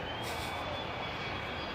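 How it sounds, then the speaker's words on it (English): Low-flying jet aircraft passing overhead, a steady broadband roar with a hissing high edge, fairly faint and distant-sounding in a brief continuous stretch. "It is a plane flying really low."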